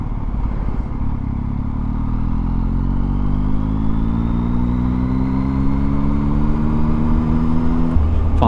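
A 2020 Yamaha MT09 with a MIVV exhaust pulls hard through the gears, its loud, close engine note climbing steadily in pitch with a gruff, throaty rasp over constant wind rush.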